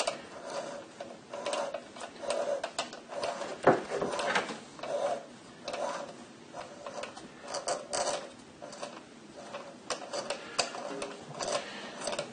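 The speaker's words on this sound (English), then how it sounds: "I'm going to thread it by hand" Hand-turned die cutting a thread on a rod for a wind vane: close, irregular scraping and ticking strokes with small clicks and knocks, steady rhythm and no voices.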